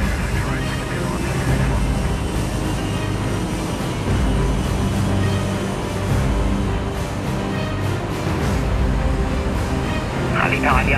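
A Lufthansa airliner takes off, its engines a dense, continuous roar heard from the cockpit, with voices talking over the noise throughout.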